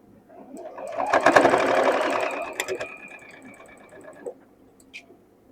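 A home sewing machine runs a straight stitch in white thread with a size 12 or 14 universal needle at 2.4 stitch length, its close, steady rapid whir rising for a few seconds then slowing and stopping.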